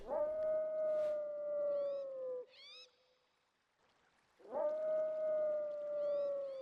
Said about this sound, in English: There's only one beast that could let forth such an unearthly howl